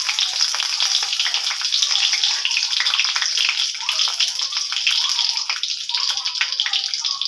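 Panch phoron and two dried red chilies hit hot oil in a pan, a steady loud crackling sizzle that stays close and constant throughout, with no talking.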